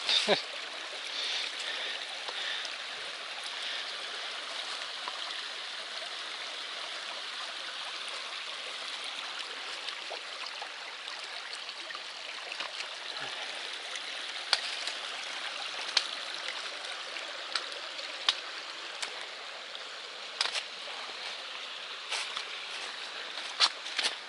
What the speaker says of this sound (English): After all those miles of dry trail, it's nice to be back in the land of running water.